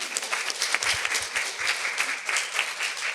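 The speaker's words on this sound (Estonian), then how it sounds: "Teeme aplausi, ja." An audience at a conference session claps in a steady, moderately loud round of applause, continuous for the whole stretch with faint low thumps underneath.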